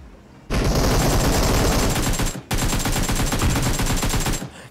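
Automatic gunfire rattles in PUBG at a military base, two loud sustained bursts of rapid shots separated by a brief pause, close and dominant with no talking.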